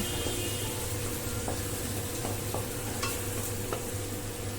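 Spring onion stir-fried for egg chicken fried rice, a dense continuous sizzle with faint scattered spatula taps and no talk.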